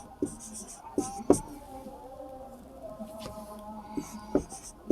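Chalk or marker writing a math question on a board: a scattering of short taps and scratchy strokes in irregular bursts, heard alongside a voice speaking.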